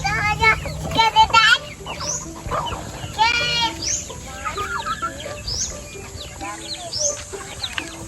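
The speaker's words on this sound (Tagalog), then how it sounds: "Mita, di po mga lupad ang manok, Mita." Backyard chickens in an island home coop cluck and call in repeated bursts, with a rooster-like crow and other farm-animal sounds mixed in, fairly close, while people talk nearby.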